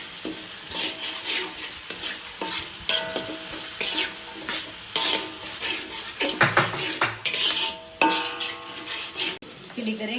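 Three spoonfuls of blended chili paste fry in oil in a pot for sambal ayam, with a steady sizzle under repeated scraping stirs and clinks of a utensil against the metal.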